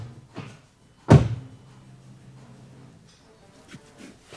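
A single sharp latch-and-thud sound from a VW Golf MK7.5 R car door opening, loud and close, followed by a soft low hum and faint scattered clicks in a quiet setting.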